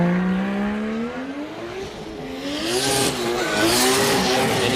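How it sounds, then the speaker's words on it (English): A drift car launching into its qualifying run at Ebisu Circuit West Course in Fukushima, the engine revving up through rising pitch close by, with tire noise building toward the end and no talk. "I hear the car clicking it into gear."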